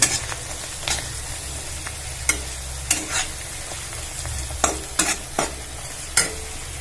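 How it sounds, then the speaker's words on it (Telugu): Chili powder fries in hot oil for a chicken curry, a close, soft sizzle broken by about ten sharp scraping strokes of a spoon stirring the pan at uneven intervals, with no voices. "మీరు కారాన్ని నూనెలోనే వేసుకోండి"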